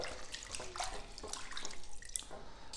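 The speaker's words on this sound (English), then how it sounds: "I'm going to use a bowl of water and then add in a generous amount of sunlight liquid. Then going to mix it" Water and Sunlight dish liquid are stirred together in a bowl, giving soft, continuous sloshing and swishing that stays faint and close, with no talking.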